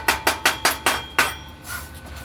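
A chipping hammer knocks slag off a stick weld with six sharp, close metallic strikes in a quick, even rhythm, followed by a short quiet scrape.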